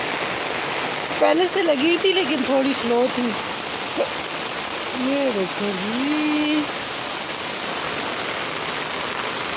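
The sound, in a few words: heavy rain falling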